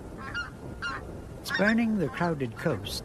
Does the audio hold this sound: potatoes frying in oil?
no